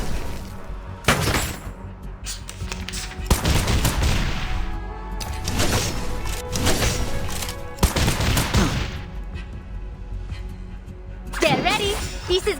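A firing squad in the video game Reverse: 1999 fires several loud, sharp gunshot volleys with echoing booms, each standing out among ongoing talking and background score.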